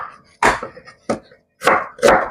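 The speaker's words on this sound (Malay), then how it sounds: "ada bawang merah lebih ni, saya potong sekali" Shallots are chopped with a knife on a board in a home kitchen, a few sharp uneven thuds and bursts close by, with pauses between strokes.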